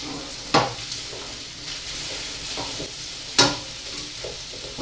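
Onions, bacon and thyme frying in a pan, with an even sizzle broken by a couple of sharp utensil scrapes and knocks against the pan, no talking.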